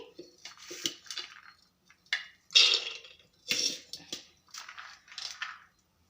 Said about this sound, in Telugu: కుక్కర్ తీసుకొని ఇప్పుడు అలసందలు అయితే వేసుకుందాం ఇందులోకి